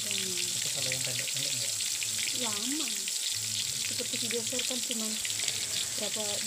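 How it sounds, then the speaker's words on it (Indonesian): Ground spice paste sizzles steadily in hot oil in a wok, a close, continuous frying hiss with faint scraping and stirring throughout. "Kita tumis semua bumbu halusnya."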